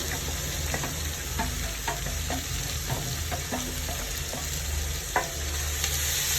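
Six chopped onions sautéing in hot oil in a pan for prawn biryani, a steady close sizzle broken by repeated scrapes and taps of a stirring spoon, with no talking.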